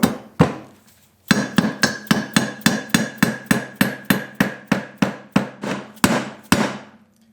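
Hammer blows strike a part being fitted to a Honda CRF300L motorcycle engine, two separate hits, then a steady run of about fifteen sharp metallic knocks with a ringing tone, close and alone.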